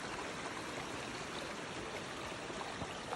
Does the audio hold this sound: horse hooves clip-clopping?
no